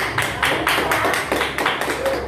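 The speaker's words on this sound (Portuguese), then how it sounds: "Então aplaude bem forte em nome de Jesus" A church congregation claps loudly and steadily in a dense, continuous wash of applause, with a faint tone and background voices mixed in.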